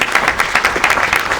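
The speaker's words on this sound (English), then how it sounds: "So if we can give them all a round of applause," Audience applause at a Latino in Science Education conference, a brief burst of dense, even clapping heard up close with no talking over it.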